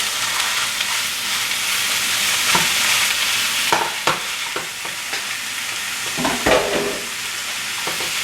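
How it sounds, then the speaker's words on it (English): Ground beef frying in a pan with sautéed onions for tacos, a steady loud sizzle with occasional clacks and scrapes of stirring, heard alone. "now that we got our onions all sauteed up, I'm going to add in this ground beef"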